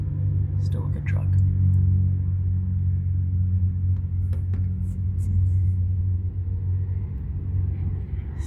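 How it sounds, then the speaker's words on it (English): Kenworth truck rolling along the I-84 highway, heard as a steady low engine and road rumble that holds throughout, with faint whispered talk over it. "Got a Kenworth rolling down the road right there."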